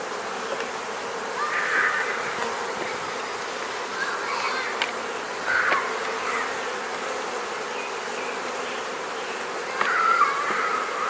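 Agitated honeybees buzz inside an opened hive during queen installation, a dense steady drone close by with louder swells as bees pass near, no voices.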